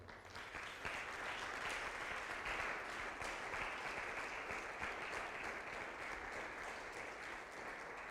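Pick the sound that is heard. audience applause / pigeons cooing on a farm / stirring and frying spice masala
audience applause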